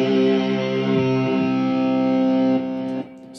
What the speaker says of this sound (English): If I add a little distortion here, and I play this devil's interval